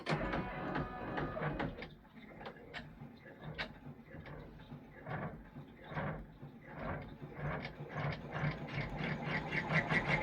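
A 10-needle embroidery machine stitches a placement outline for a face, giving a steady rapid mechanical chatter with regular clicking pulses, close and fairly loud, running continuously without talk.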